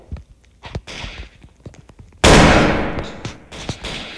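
Explosive bullet gunfire in the video game Underground War 3: a scatter of sharp cracks, then a loud, sustained blast that erupts midway and slowly trails off, with a few more pops after it.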